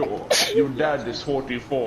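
A person lets out one short, sharp sneeze early on, caught between stretches of casual conversation that runs through the rest of the moment.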